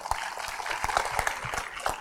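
An audience claps in a dense, steady burst of applause for middle school students at a live downlink event in Houston, sharp hand claps close and continuous for the whole stretch.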